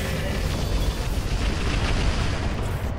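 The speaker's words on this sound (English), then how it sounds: "Rockets." Rockets fire and burst in a dense, continuous roar of booms during a mech battle in the video game Roguetech BattleTech, loud and sustained with no gaps.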